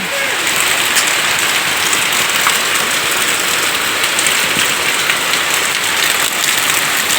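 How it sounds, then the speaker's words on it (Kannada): Heavy monsoon rain pouring down, a loud, dense and continuous patter and hiss of rain on surfaces, steady throughout with no let-up. "ಮಳೆ ಶಬ್ದ ಕೇಳಿ ಸ್ನೇಹಿತರೆ"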